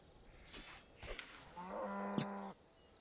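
A single drawn-out cow moo from a video game comes in the second half, loud and close, preceded by a few short thumps and game noises.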